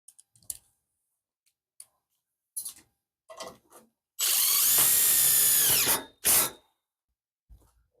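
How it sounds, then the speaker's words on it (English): A power drill drives self-tapping screws into a chain link fence gate frame, with one long whining run and a shorter burst following scattered clicks and handling taps, close and fairly loud. "we need to add these self-tapping screws"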